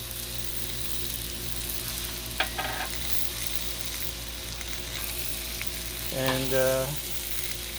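Wieners frying in avocado oil in a pan, a steady close sizzle throughout with a couple of brief clinks or scrapes partway through and a short spoken word.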